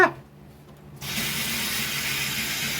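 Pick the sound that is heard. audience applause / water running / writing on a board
water running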